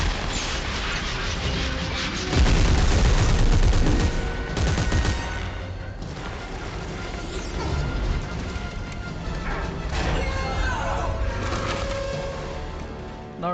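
Sustained automatic gunfire and bursts from the sci-fi shooter Dead Space 3, loud and dense throughout, with heavier booming impacts near the start and continuing rapid fire with no talk over it.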